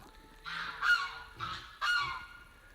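Ducks in a duck pen give several loud, honking quacks in quick bursts, close by with short pauses between calls.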